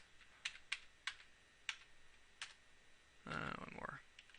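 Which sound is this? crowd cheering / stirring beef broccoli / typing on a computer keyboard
typing on a computer keyboard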